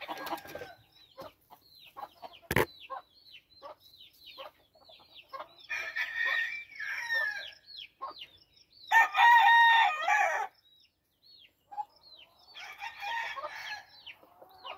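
Game chickens, including mohawk-crested males and hens, clucking in short scattered bursts with a couple of louder crows rising above, close by in summer heat, with no talk.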